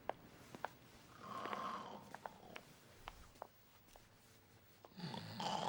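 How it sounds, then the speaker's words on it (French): Loud snoring from a character in a TV episode, rising in a few rough breathy swells over a steady low background, with scattered clicks and a louder burst near the end. "Qui ronfle comme ça?"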